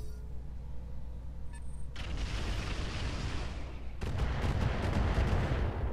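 Artillery barrages in the mech combat game Roguetech build into a dense, continuous roar of rumbling blasts, which swells louder partway through and stays loud, with no voices over it.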